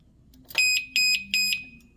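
An alarm padlock fitted to a motorcycle wheel sounds right after activation with a series of sharp, loud electronic beeps at a steady rhythm, close by with no talking.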